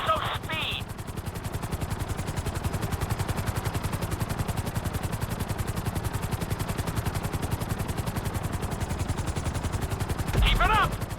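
A helicopter in a GTA 5 flight school lesson flies with a loud, continuous rotor chop pulsing rapidly and evenly, briefly joined by short bursts of other sound at the start and end.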